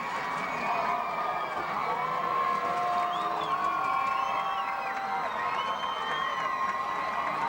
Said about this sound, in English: Crowd very pumped up.